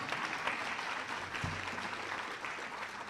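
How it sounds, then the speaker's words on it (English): Audience applause at a university downtown campus anniversary event, a steady broadband wash of clapping throughout, moderately distant, with a brief low hum partway through. "Yeah, y'all can clap for that."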